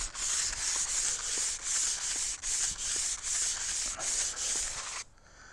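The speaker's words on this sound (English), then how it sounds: "It doesn't take long to sand a dart this way." Sandpaper rubs briskly along a bamboo atlatl dart shaft in a steady back-and-forth rhythm of about a dozen close, loud strokes, with no voice, before it stops abruptly near the end.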